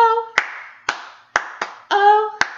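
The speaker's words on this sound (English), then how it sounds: "Oh, clap four times." Children in an infant-through-kindergarten sing-along clap their hands during Bingo, about six crisp, evenly spaced claps sounding close over sung notes.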